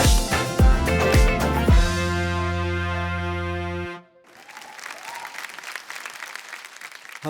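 Studio audience applause for a folk singer on a folk singing reality show, loud clapping that rises over music and thins into scattered claps and cheers after the music cuts out.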